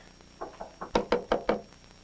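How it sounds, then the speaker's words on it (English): Knocking on a door: a few soft taps lead into four loud, evenly spaced knocks, close by and heard with no voices over them. "The one I'm knocking on."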